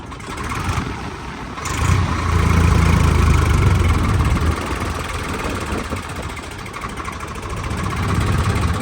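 A loud tractor engine, in third gear pulling a trolley stuck in the ground, rumbles and revs, rising and holding at a heavy drone, then easing slightly before climbing again.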